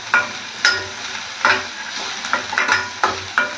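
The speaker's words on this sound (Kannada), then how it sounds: "ಚೆನ್ನಾಗಿ ಫ್ರೈ ಮಾಡ್ಕೋಬೇಕೀಗ" Spices with turmeric and grated ginger fry in a pan, a steady close sizzle broken by rhythmic scraping stirs roughly every half second.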